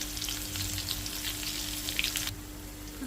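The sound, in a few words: green chillies, asafoetida, curry leaves frying in oil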